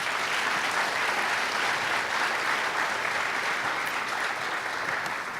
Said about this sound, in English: How about another round of applause for our panelists here?